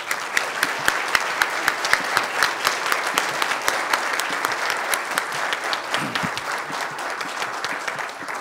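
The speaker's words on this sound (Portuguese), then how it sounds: "Uma salva de palmas." Audience applause at the close of a conference talk on standardization and interoperability, steady dense clapping from a crowd for about eight seconds without speech.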